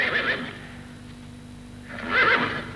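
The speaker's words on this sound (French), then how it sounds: "Les chevaux?" Horses neigh twice, one whinny at the start and a second after a quiet pause, moderately distant with a faint hum underneath.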